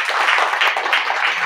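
A church congregation clapping their hands together, a dense, bright patter of many overlapping claps, steady and close for a brief moment with no talk.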